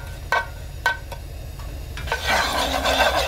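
Garlic stir-frying in perilla oil in a pan, a few sharp utensil scrapes and clinks early on, then a steadier soft sizzle building up close by, with no talking.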